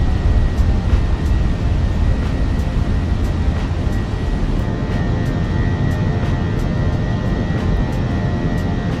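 Simulated Airbus A320 jet on its takeoff roll and climb in Microsoft Flight Simulator 2024, a steady loud broadband engine roar that holds evenly throughout with no talk.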